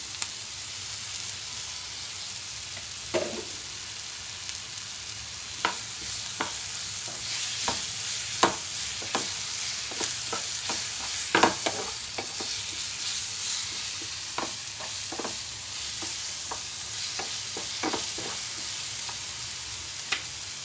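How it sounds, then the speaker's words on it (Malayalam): Vattayappam batter being mixed in a bowl with a spoon, giving steady soft scraping and stirring with scattered sharp clicks against the bowl over a low hiss, close and without talk. "ഇതെല്ലാം കൂടി നല്ലതുപോലെ നമുക്ക് മിക്സ് ചെയ്ത്"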